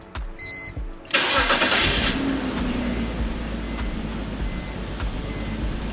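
A BMW 330Ci engine cranks and catches, then settles into a steady, loud, slightly uneven rough idle, with faint repeating chime tones in the background.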